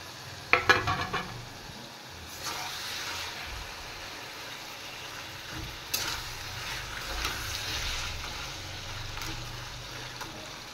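A fish head and fried prawns go into a pan of squeezed, boiled taro greens, giving a few quick clatters and then a soft, steady sizzle of frying that continues quietly throughout.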